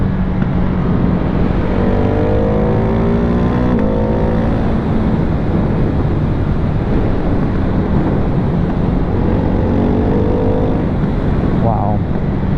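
A Ducati Hypermotard 698 Mono single-cylinder motorcycle revs and pulls away in the Arizona desert, its rising engine note climbing through gears under steady wind rumble, with talking over it.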